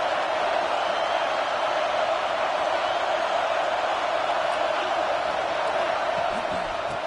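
A stadium crowd cheers in the College Football 26 video game, a steady, distant roar of many voices that holds evenly throughout.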